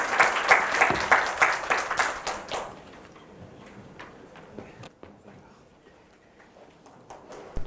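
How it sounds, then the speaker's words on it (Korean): A burst of audience applause for a few seconds, then it thins out to a few scattered claps over quiet room noise. "박수로 맞이해 주세요."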